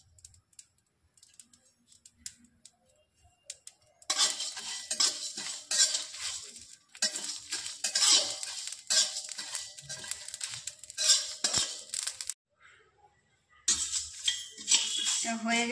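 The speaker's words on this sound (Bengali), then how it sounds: "কড়া গরম হয়ে গেছে, আমি এই মশলাগুলো ভেজে নেব।" Coriander, cumin, whole spices and dried chillies dry-roasting in a hot pan, heard as scraping and stirring clatter with light crackle in several steady bursts, separated by short quiet pauses.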